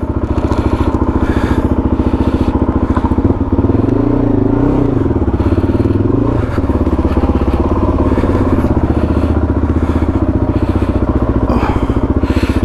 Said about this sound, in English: Trying out the DRZ today. Go for a little ride.